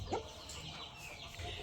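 A weak, run-down Aseel hen on a farm gives a short cluck near the start, then a steady background murmur of the farmyard carries on.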